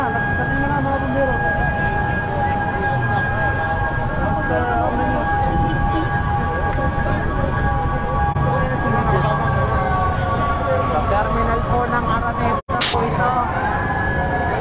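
A fire truck siren wails, holding steady tones over a busy background rumble at a fire at Araneta Bus Terminal, Quezon City, loud and continuous, with a brief sharp burst near the end.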